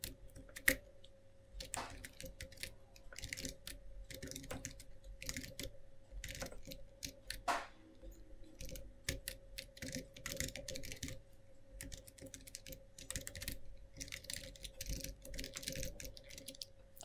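Code being typed on a computer keyboard, a steady, fairly quiet stream of key taps with irregular pauses and bursts, close and alone without talk.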